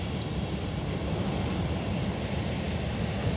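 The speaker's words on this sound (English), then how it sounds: "Oh wow, look at those waves." Ocean waves break on a California beach on a summer morning, a continuous broad wash of surf with a deep rumbling low end and no distinct individual crashes, steady and fairly loud with no speech.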